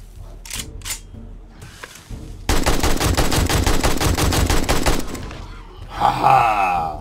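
Rapid automatic gunfire rattles for a few seconds in the survival game 7 Days to Die, preceded by a couple of single shots and reload clicks and followed by a growl; loud and close.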